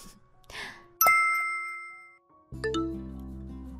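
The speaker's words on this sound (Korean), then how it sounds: "누가 이 시간에 초인종을 누르는 거야?" Doorbell chiming in a home, a short sequence of bright ringing tones that decay, with a soft voice-like sound before and a lower sustained chime at the end.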